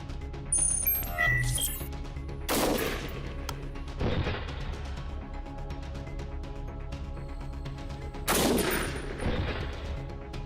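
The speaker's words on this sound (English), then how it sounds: "today I'm gonna shoot the SR25 308" An SR25 .308 rifle fires at an armored Mercedes-Benz W140 at a range, three sharp, loud cracks spaced a few seconds apart, with a short burst of bright metallic clinks near the start.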